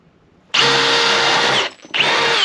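Cordless drill powered by a Vanon Pro replacement battery drives into a 2x4, a loud high whirring run of about a second, a brief pause, then a second burst of whine starting up, with no talk over it.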